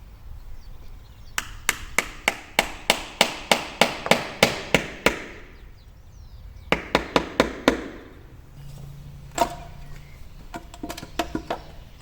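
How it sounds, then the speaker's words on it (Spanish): Sharp hammer taps on a flat screwdriver prying a rubber seal off a Chevrolet Matiz engine, coming in a quick run of about twelve even knocks, then a shorter burst and scattered lighter taps, close and fairly loud. "Con un destornillador plano y un martillo vamos a despegar la goma"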